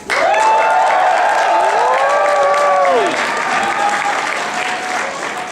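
An audience at a Pokemon convention panel at C2E2 2014 bursts into loud sustained applause and cheering, with whoops and shouts rising over the clapping before it tapers off slightly.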